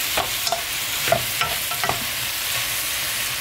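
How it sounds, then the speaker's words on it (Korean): Squid and mixed vegetables sizzle in a pan during stir-frying, with a steady frying hiss and several sharp scraping and stirring clicks from a utensil, close by and with no talking. "오징어 볶으면 집에 있는 재료 이것저것 쓰시면 되니까 이렇게 해서 볶아줍니다."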